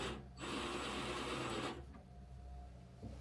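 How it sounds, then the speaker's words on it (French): Cordless screwdriver driving a screw slowly during home renovation work, a close whirring buzz lasting just over a second before it stops, leaving a quieter hum. "tu prends la visseuse et tu vas tout doucement"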